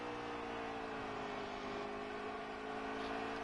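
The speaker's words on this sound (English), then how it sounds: "just kind of listen to these cars too, because that 4 just sounds so wound up, even like through the corners" Race car engines at ISM wind up steadily through the corners, a continuous high revving whine with shifting pitch, heard from a distance and fairly faint, with no talk.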